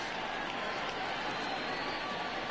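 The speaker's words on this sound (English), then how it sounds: "Good crowd on hand." Steady stadium crowd murmur at a baseball game in the video game MLB The Show 20, a broad continuous wash of distant fans that stays even and unbroken throughout.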